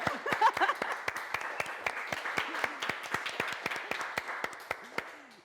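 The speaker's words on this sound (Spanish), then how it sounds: "Un aplauso más fuerte, chiquillo." A small group gives sustained, moderately close applause with sharp, individual claps spread unevenly over several seconds.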